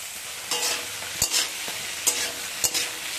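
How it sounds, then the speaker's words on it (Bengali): Onion flower stalks stir-fried with bata fish in a pan: a steady close sizzle broken by a few sharp spatula scrapes, with no talk. "এবারে অ্যাড করছি পেঁয়াজ কলি"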